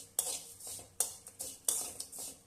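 A utensil scrapes and clinks against a pan while fine vermicelli is roasted and stirred over low heat, with sharp metallic taps recurring every half second or so over soft sizzling.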